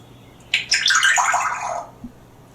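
A parrot imitates running water, producing a brief, bright, hissing and gurgling burst that lasts about a second and a half, followed by a small click, with no talking.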